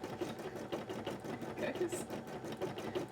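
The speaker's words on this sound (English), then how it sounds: "Meanwhile, my embroidery machine will gently chug." An embroidery machine chugs steadily as it stitches a large design onto a cosplay piece, a fast, even mechanical pulse heard close up while a person talks briefly.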